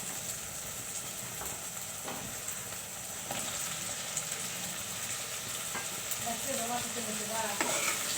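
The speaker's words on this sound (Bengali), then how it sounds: "এখন আমি টমেটোগুলো দিয়ে দিব।" Tomatoes added to cooked-down spices frying in a pan for a chicken skin dish with green chilies, a continuous sizzle and hiss with occasional scraping stirs, close and steady throughout.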